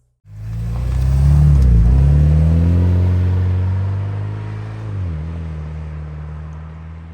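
A Fiat Pulse Abarth sport SUV engine starts and revs up into a loud, close rumble as the car pulls away, the pitch rising and falling before settling into a steady drone.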